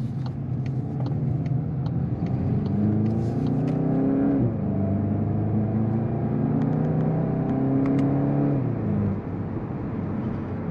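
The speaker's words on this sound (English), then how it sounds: "Do hear an enhanced engine note." A 2023 Volkswagen Golf GTI in sport mode accelerates on the Autobahn, its engine note rising through the gears with clear shift dips, a loud, close cabin drone with tyre and road rumble beneath.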